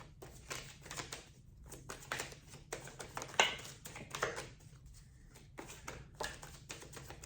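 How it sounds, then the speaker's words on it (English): Tarot cards shuffled by hand at close range, a series of soft papery riffling bursts and light taps in a quiet room, with brief pauses between shuffles. "These cards are a little tricky to shuffle, but I'm doing my best."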